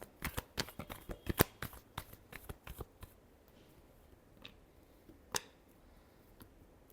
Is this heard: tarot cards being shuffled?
yes